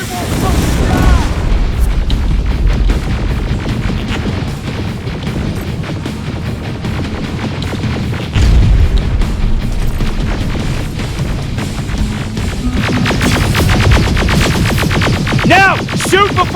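Heavy booming rocket explosions in a Terminator video game, loud and continuous with dense gunfire and battle noise throughout, and shouted voices over the blasts.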